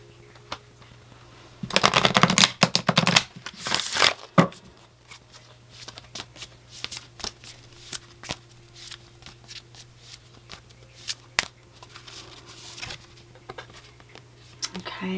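Tarot cards shuffled by hand in a quiet room, a dense riffling burst for a couple of seconds followed by softer scattered flicks and taps as cards are handled and laid out, with a low steady hum underneath.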